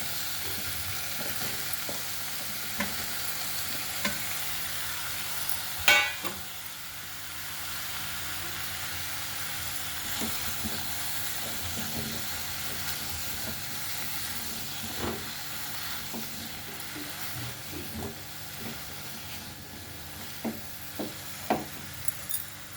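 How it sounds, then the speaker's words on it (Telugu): Bottle gourd pieces fry in a pan of masala curry, giving a steady, soft sizzle and hiss throughout, broken by occasional scraping stirs and light clinks from a utensil, heard alone without talking. "ఇప్పుడు ఆనపకాయ ముక్కలు వేసేద్దామండి."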